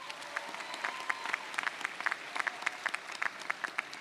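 A graduation ceremony audience claps for an honoree, a dense, steady patter of many hands at moderate volume with no talking over it.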